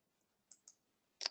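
Three quiet, crisp computer mouse clicks in a quiet room, two light ones close together and then a sharper one.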